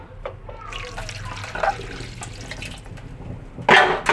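Running tap water splashes in a sink while fridge parts are washed by hand, with intermittent gurgles and clatter and a louder gush near the end, and a faint voice now and then in the background.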